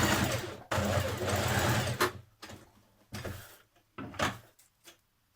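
A sewing machine stitches a seam line on a formal skirt made from Simplicity pattern 8699, running in several close bursts, long at first and then shorter, separated by pauses.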